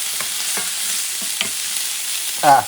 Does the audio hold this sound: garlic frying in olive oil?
yes